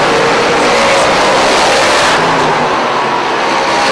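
Race cars roar continuously around a racetrack during a competitive battle, a dense, loud engine drone with passing and revving, no talk over it.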